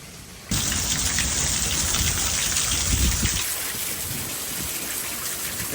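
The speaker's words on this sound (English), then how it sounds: "that rain was absolutely pouring" Heavy rain pours down in a dense, steady roar that starts abruptly and stays loud and close throughout, with no voices.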